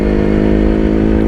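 A two-stroke Yezdi or Jawa motorcycle rides along, its dense buzzing engine note loud and steady throughout with no pauses or voices.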